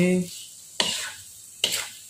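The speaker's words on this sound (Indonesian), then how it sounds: "nah ini kita aduk lah, pokoknya diaduk seperti ini" Fried salted fish with green chili is stirred in a pan over the heat, two sharp scraping strokes spaced apart over a soft sizzle, close by, following a brief bit of speech at the start.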